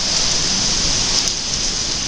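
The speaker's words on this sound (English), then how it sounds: "We are getting a little bit of rain here today" Monsoon rain pours steadily in Lake Havasu City, a dense, even hiss of drops striking surfaces with no voices.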